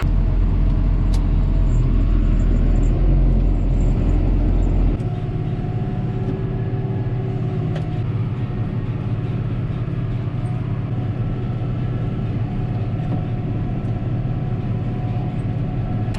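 A tractor mowing first-cutting alfalfa, driving across an old rye field: a loud, steady engine drone and rumble from inside the cab, heavier for the first few seconds, then settling into an even hum.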